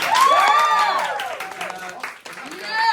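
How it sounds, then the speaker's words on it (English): An audience claps and cheers, with loud whoops and shouting voices over scattered applause. "y'all give a round of applause for Nick, man."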